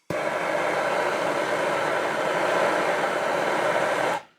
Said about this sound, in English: In this case, I'm going to use a torch.